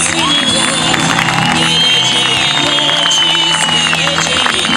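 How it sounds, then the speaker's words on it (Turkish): A large crowd at a political gathering at an election office in Bodrum applauds and cheers continuously, with shouts and whistles blending into a loud, steady roar throughout. "Alkışlarla."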